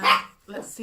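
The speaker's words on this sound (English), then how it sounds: "Sorry about the dog." A dog gives a single sharp bark close by indoors, followed by someone speaking briefly.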